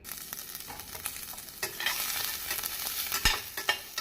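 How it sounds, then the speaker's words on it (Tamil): Chopped onion sizzling and crackling in a hot pan while cooking egg curry, with stirring scrapes and clicks over a steady frying hiss. "நாம் நறுக்கிய ஒரு பெரிய வெங்காயத்தை போட்டுவிடலாம்"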